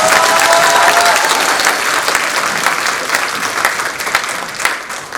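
Sustained audience applause at an annual celebration gala, a dense wash of many hands clapping that stays loud throughout and eases slightly toward the end.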